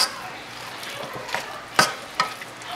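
Refried beans seasoned with seasoning salt stir and sizzle softly in a pan, with a low frying hiss broken by a couple of sharper scrapes of a utensil.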